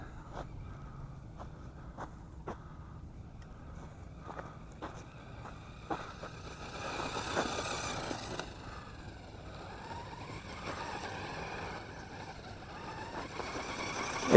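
ZD Racing ZTX-10 brushless 1/10-scale RC car running at full throttle: a thin motor whine that builds and fades as the car passes at a distance, with scattered ticks and outdoor noise, no speech.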